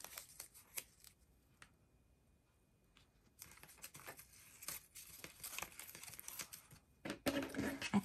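Fiskars Teflon-coated scissors snip paper for a junk journal tab binding. Soft, scattered clicks give way to denser, crisp cuts that grow louder toward the end, with no talking.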